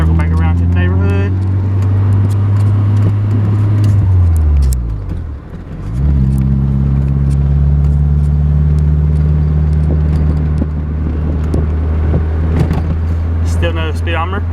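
A Honda Del Sol shifts into second gear and pulls away, its engine humming steadily with a brief dip in pitch at the shift before settling back into a constant drone, close and fairly loud.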